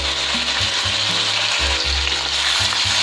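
Boneless chicken cubes, about 250 grams, fry with garlic in a pan, producing a loud, steady sizzle broken by repeated low thumping pulses as the pieces shift.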